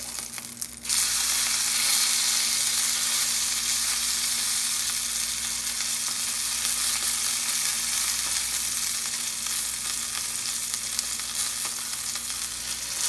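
Thick filet mignon steaks, about 1.5 to 2 inches, sear in a hot pan with a loud, continuous close-up sizzle that starts abruptly and holds steady throughout.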